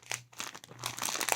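Paper is folded and crumpled close up in short crinkling bursts with soft handling noise between them and no voices.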